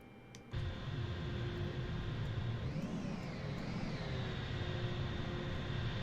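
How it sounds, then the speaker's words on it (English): An aircraft auxiliary power unit spooling up at East Midlands Airport: a steady, loud roar kicks in abruptly, then a thin whine rises and wavers before settling into a continuous hum. "Alright, we're just waiting for that APU to come up."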